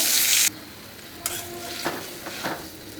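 Fish frying in a pan gives a bright hiss and sizzle, loud at first and then softer, broken by a few sharp stirring scrapes and clinks.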